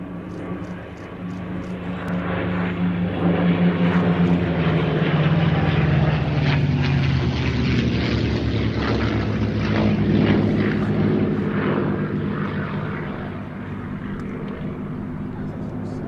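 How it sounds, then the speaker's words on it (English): A P-47 Thunderbolt and two P-51 Mustang fighters roar past at an airshow, their propeller engine drone swelling and fading over several seconds while an announcer talks over the noise. "Here come the fighters once more, P-47 and 2 Mustangs."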